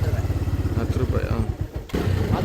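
A motorbike engine thrums in a steady low pulse as it rides uphill toward SRS hill near Bengaluru, close and loud, briefly dipping before picking back up, with a voice speaking over it.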